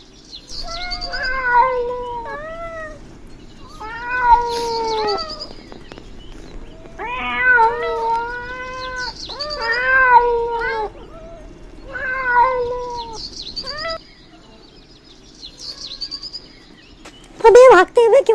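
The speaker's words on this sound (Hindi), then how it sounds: "बिल में बिल्लियों का लश्कर आ रहा है उठकर" A crowd of cartoon cats meows and caterwauls in a Hindi animated cartoon, repeated loud wailing calls in rhythmic bursts across the whole stretch, ending in a sharp, loud flurry.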